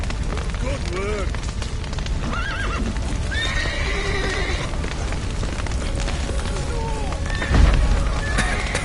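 Horses neigh and whinny repeatedly over galloping hooves in the video game The Witcher 3: Wild Hunt, with loud calls rising above the hoofbeats and a dull thump near the end.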